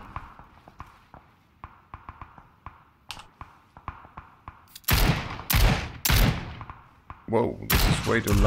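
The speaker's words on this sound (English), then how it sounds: "Shots from west." Sharp gunshots crack repeatedly in a PUBG battle royale match, a scattered string of distant single shots followed by louder, closer bursts, with a player talking over them.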